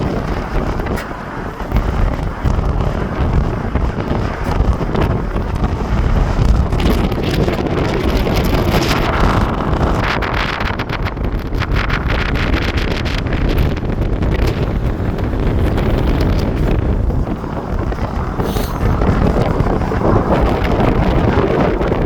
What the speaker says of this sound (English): wind again.